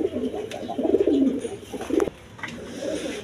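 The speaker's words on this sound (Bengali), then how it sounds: "দর্শকবৃন্দ এখানে এক পেয়ার কবুতর আছে, এটা মূলত বাঞ্জা কবুতর।" A pair of light-coloured breeding pigeons coo in rolling, throaty phrases close by, with a few sharp clicks between calls and a faint voice in the background.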